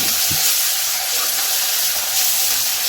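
Tomatoes added to onions frying in foaming coconut oil for a mushroom masala curry: a close, steady broadband sizzle and hiss with a faint soft knock near the start, no voices.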